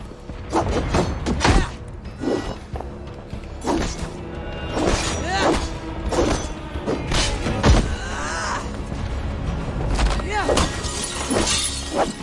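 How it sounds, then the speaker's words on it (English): Repeated crashes and a glass window shattering ring out during a siege battle in Assassin's Creed Valhalla, mixed with heavy thuds, grunts and groans, while characters speak over the fighting. "That's one glass window broken already."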